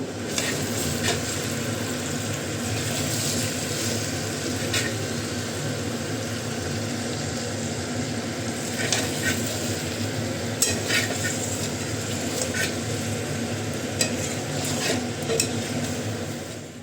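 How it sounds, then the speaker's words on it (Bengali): Meat being stirred and sautéed in a pot for Bengali kosha mangsho, with a steady close sizzle and frying hiss throughout and occasional scraping clinks of a spoon against the pan. "মাংসটা আমার সম্পূর্ণ কষানো হয়ে গেছে"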